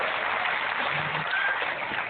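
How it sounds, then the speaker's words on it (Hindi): A dense, steady wash of applause welcomes a member of parliament as a guest at a scholarship event, loud and even from start to finish with no clear pauses, with faint speech mixed in. "जोरदार तालियों से उनका स्वागत करें"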